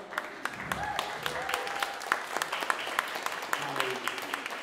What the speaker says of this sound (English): Stand up, let's clap.